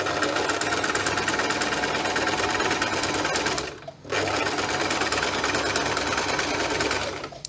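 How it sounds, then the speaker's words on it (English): A sewing machine runs steadily stitching a seam on taut fabric, with a continuous whirring drone that briefly pauses near the middle for a reverse backstitch before resuming at the same pace. "We do a few stitches, hold the reverse down and then continue to sew."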